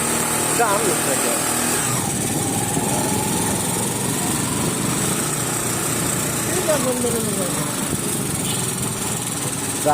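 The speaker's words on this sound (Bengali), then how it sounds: "ভিতরে ঢুকছে মোটর সাইকেল" A motorcycle engine drones steadily nearby in a fuel pump queue with a buzzing, uneven rev, while people talk over it.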